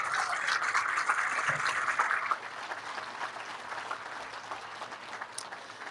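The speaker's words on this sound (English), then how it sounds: "a big thank you and a round of applause to our captain sponsor, First Federal Savings" Outdoor audience applause at a ship launch, a faint, steady wash of many hands clapping from a crowd, swelling briefly then thinning and tapering off over several seconds.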